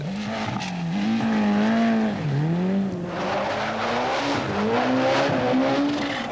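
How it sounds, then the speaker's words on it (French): Malcolm Wilson's Ford RS 200 rally car climbs Pikes Peak in 1987, its engine revving hard and loud, pitch rising and dropping through gear changes and corners, with tire noise and no talking. "C'est vraiment un autre registre avec Malcolm Wilson et sa Ford RS 200."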